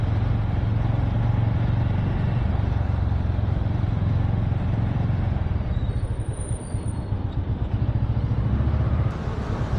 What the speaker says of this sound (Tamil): ஒரு 12:30 மணிக்கு கூட இவ்வளோ காரு, பைக்கு டிராஃபிக்காக தான் இருக்குது.